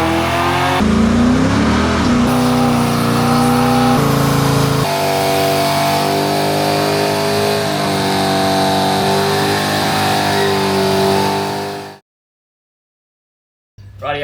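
Loud car engine revving hard and holding high revs during a shed skid burnout at a home shed, a steady roar for about twelve seconds before cutting to silence, with a brief burst returning at the end.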